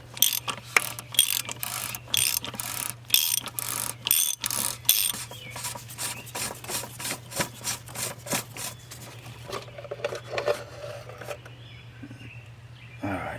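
A socket ratchet loosens the oil filter cap on a 2011-2015 Jeep Wrangler, clicking rapidly and loudly up close in repeated strokes before the clicks slow and soften toward the end.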